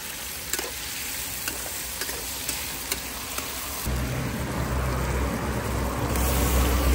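Ginger and scallions stir-fry in hot oil at a roadside campsite, a loud close sizzle with periodic spatula clicks that swells into a fuller roar of frying halfway through, with no voices.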